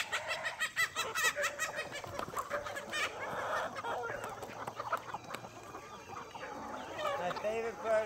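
A backyard homestead chicken flock clucks and chatters nearby in the morning, with overlapping bird calls and rustling throughout and a person's voice in the background at times.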